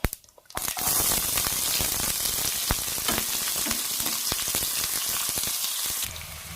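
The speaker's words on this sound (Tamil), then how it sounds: "எண்ணெய் காய்ச்சது கடுகு சேர்த்துக்கலாம். கடுகு பொரிஞ்சிச்சு. இப்போ வெங்காயம் சேர்த்துக்கலாம்." Chopped onions dropped into hot oil where mustard seeds have just popped, a loud dense sizzle that starts suddenly and holds steady with crackling pops, close up.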